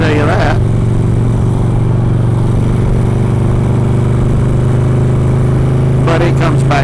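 A Harley-Davidson motorcycle cruising on the highway produces a loud, constant engine rumble mixed with wind roar, while a rider's voice talks over it.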